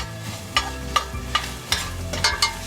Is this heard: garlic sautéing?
yes